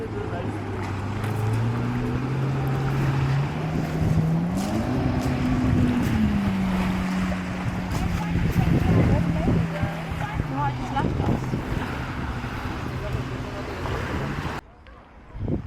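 A small motorboat runs over the sea in Albania, its engine droning steadily with a rising and falling pitch, wind buffeting the microphone and water splashing, before the motor sound cuts off abruptly near the end.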